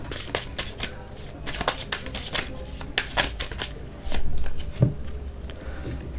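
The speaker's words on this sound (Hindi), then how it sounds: "कार्ड शफल कर रहती हूँ।" Tarot cards being shuffled by hand, close up, in bursts of quick papery flicks and slaps with short pauses between handfuls, no voice over them.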